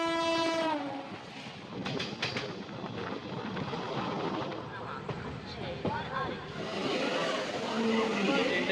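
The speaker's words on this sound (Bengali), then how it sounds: "ট্রেনটাই আমাদের ওভারটেক করলো।" The Shramjeevi Express blasts a loud horn, then rumbles steadily past on the adjacent line while overtaking a halted train, with wheel clatter close by and faint voices underneath.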